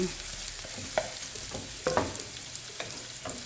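Ginger and garlic sauté in a pan for spicy chicken in coconut milk, a close, continuous sizzle with irregular spoon scrapes and clinks as they are stirred. No voices.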